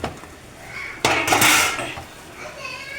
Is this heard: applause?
no